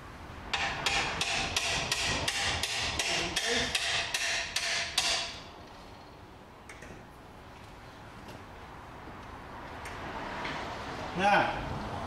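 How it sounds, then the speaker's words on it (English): A hammer strikes metal about fourteen times in a steady, ringing rhythm while fitting a shock top in a garage, then stops; quieter handling noise follows, with a voice speaking briefly. "I should be able to hit that with the hammer."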